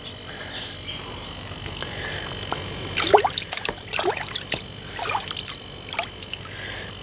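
Water from a tilapia breeding tank is scooped into a small bowl, giving a few soft splashes and trickles midway, set against a constant high insect chirring.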